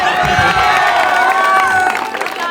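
A student audience at a university campus show claps and cheers loudly at once, whoops and shouts rising over dense applause, then fading slightly toward the end.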